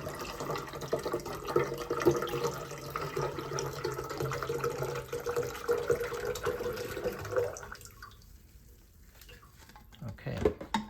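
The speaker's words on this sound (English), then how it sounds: "So I'll just fill this up with water and then put it back in there" Tap water runs steadily into the reservoir of a Keurig K Supreme coffee maker, a close, continuous splashing stream that stops near the end, with a brief bump of handling afterward.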